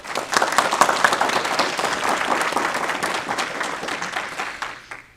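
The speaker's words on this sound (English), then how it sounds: "Please give him a round of applause." Audience applause at a county school board meeting, a dense, steady round of clapping from a roomful of people that holds evenly for several seconds and then tapers off.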